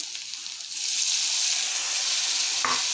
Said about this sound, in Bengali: একটু করে জল দিয়ে দিচ্ছি